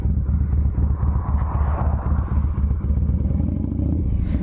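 A 95th Anniversary Edition Harley-Davidson Softail Fat Boy engine rumbles steadily while riding, a continuous loud, close low-pitched throb with a dense pulsing texture, no talk.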